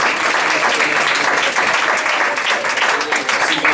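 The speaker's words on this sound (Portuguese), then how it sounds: "Aplauda Jesus por isso." Church congregation applauding during a sermon, loud dense clapping sustained throughout with some voices faintly mixed in.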